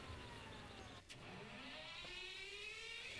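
A BOAR 45318 truck engine starting in the SnowRunner video game: steady engine drone with a brief dip, then rising revs and a climbing whine, loud and close, with no talking.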